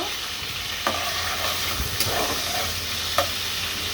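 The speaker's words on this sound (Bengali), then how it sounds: "আমি এখন তেলের ভিতরে দিয়ে দিব পেঁয়াজ খিচুড়ি বসাবার জন্য" Onions sizzle steadily in hot oil for khichuri, a continuous close frying hiss with a few soft stirring clinks scattered through, no voices.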